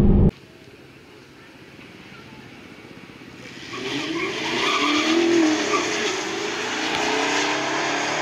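A 2020 Honda Accord Sport 2.0T and an Infiniti M56S with a 5.6-liter V8 race, heard as a sharp click, then a quiet lull before engine roar builds and sustains at a distance, with a rising and falling tone partway through.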